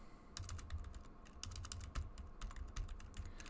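Computer keyboard typing, irregular bursts of light clicky keystrokes, close and fairly quiet, with brief pauses between runs and no talking.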